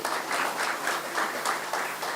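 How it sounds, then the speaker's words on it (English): A round of applause from an audience at an awards ceremony for drumming, dense even clapping that swells in soft pulses for a couple of seconds. "Let's give another round of applause."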